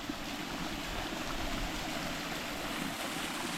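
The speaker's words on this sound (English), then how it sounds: "A nice waterfall." Steady broadband rushing of falling water, constant and fairly close, with no voices over it.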